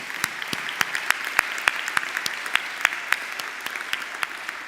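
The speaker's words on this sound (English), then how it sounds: "One more round of applause for them." Audience applause for essay winners at the AUB Founders Day 2023 ceremony: a sparse, fairly light round of individual claps with distinct sharp hits spaced through the room, steady and moderately close, with no talking over it.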